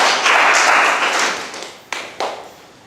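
Pupils in a classroom break into a burst of clapping for a correct answer, a dense patter of hands that fades after about a second and a half, followed by two sharper isolated claps.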